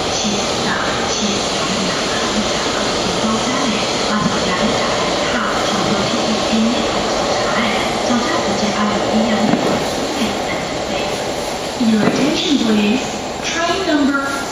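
Steady rumble and hiss of a high-speed train pulling into platform 1A at Taichung station, with a public-address voice speaking over the noise throughout.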